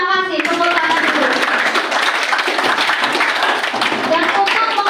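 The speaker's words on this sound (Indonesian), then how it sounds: "Tepuk tangan dulu." A primary school class claps hands together at the end of a lesson, a dense burst of many small hands close by, sustained and even for a few seconds, with a teacher's voice briefly heard at the start.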